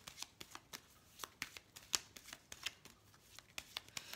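Petit Lenormand cards are shuffled by hand in a series of short, crisp riffling bursts at an irregular rhythm, close and quiet, with no talking over them.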